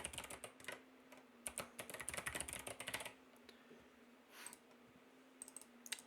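Quiet, rapid keyboard typing in bursts of clicks, with short pauses between runs of keystrokes and a faint background hum.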